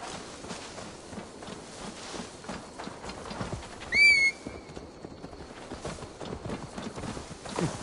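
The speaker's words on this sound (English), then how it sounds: "Now to deliver Magni his horse." Horse hooves clip-clop steadily in Assassin's Creed Valhalla, with a short whinny rising midway, game ambience underneath and no talking.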